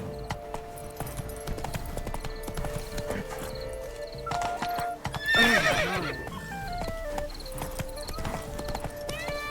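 A horse in a video game trots with quick clip-clop hoofbeats, then lets out a loud whinny midway, with game music and faint voices underneath.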